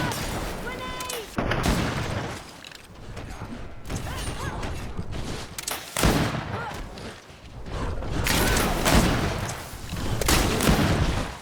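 A grenade going off in the fantasy action RPG GreedFall, one sharp blast amid combat clatter and further thumps, with voices calling out during the fight.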